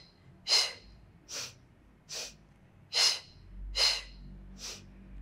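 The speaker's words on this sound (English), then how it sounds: "inhale, exhale, inhale" Six forceful breaths during a legs workout with heel pulses, sharp inhales and exhales repeating roughly once a second, close and clear over a quiet low hum, with no talking.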